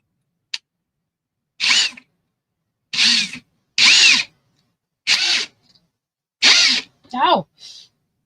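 A handheld power drill runs in several short bursts, each a whirring spin of under a second, close up, separated by silence, with a brief voice near the end.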